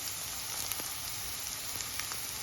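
Garlic, onion and carrots sizzle in a pan for spaghetti, a soft, even frying hiss with a few faint pops, no voices.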